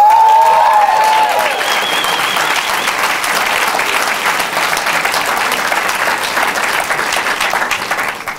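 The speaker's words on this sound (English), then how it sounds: "You're supposed to clap after this." Loud, sustained applause fills the hall at a campus diversity monologues event, with a dense even roar of clapping and a brief voice at the start.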